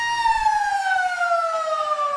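A loud, steady end-of-game siren sounds at a WAFL Colts Australian football match, South Fremantle versus Subiaco, holding a sustained tone that glides slowly downward in pitch, with faint crowd noise beneath it.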